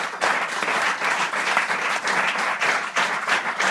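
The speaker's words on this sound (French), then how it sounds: "Est-ce qu'on peut acclamer la parole du Seigneur? Donne-moi des acclamations, s'il vous plaît." A church congregation breaks into loud, sustained applause and cheering, many hands clapping in a dense, continuous wash that fills the room without pause.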